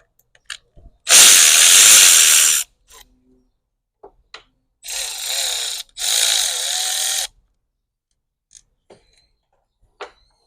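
A power driver or drill whirs in three separate bursts while removing screws from the oil separator on a VW/Audi 2.0T engine, with small clicks and metallic handling sounds between the runs, close and loud.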